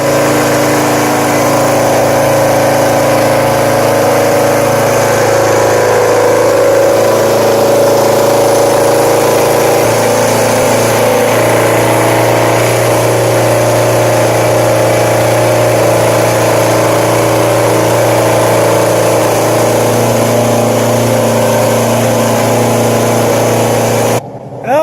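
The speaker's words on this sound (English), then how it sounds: "now that the bike's running and idling on its own" A motorcycle engine idles steadily and loudly at close range, a continuous even hum that holds throughout with no voices.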